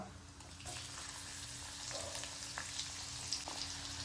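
Cumin and onion hit hot oil in a pan for stuffed capsicum. A quiet start jumps into a steady, soft sizzle, with a few faint crackles and clinks scattered through.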